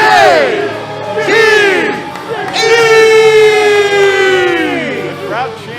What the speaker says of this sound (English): The crowd chanting JTE.